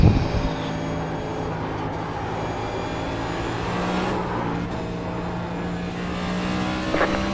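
NASCAR A Fixed race car in the iRacing simulator at New Hampshire, a steady loud engine drone at high revs, continuous throughout with slight swells and no talking.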